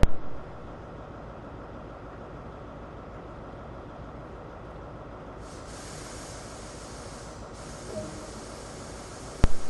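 Brake release on a train in the Train Sim World railway game, a broad steady hiss over a low cab rumble, with a higher airy layer cutting in and out partway through.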